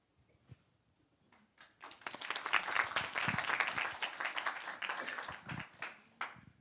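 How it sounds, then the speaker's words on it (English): An audience claps to welcome a speaker onto the stage at an education finance event. The applause is faint at first, swells into steady, moderately distant clapping for several seconds, then thins out with a few last claps. "so I appreciate the clapping"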